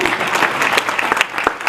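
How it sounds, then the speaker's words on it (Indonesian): An audience claps steadily at a church service during a sermon on nutrition and the Bible, a dense and even round of applause heard up close from within the congregation. "Kok nggak mau tepuk tangan buat Tuhan?"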